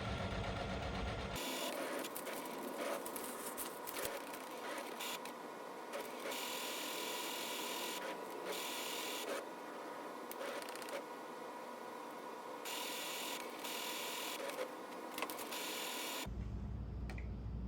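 A Brother DCP-T920DW inkjet printer runs its print head cleaning cycle: continuous mechanical whirring and rattling with shifting pump and carriage tones, starting abruptly after a quiet moment and stopping near the end, heard up close with no talk.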